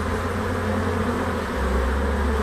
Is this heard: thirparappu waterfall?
no